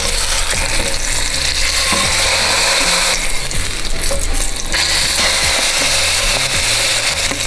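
Lamb neck meat searing in a hot pan while braised lamb is prepared, a loud, dense, continuous sizzle close up, rising briefly in intensity midway, with no speech.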